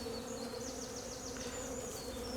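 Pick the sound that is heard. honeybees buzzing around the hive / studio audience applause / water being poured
honeybees buzzing around the hive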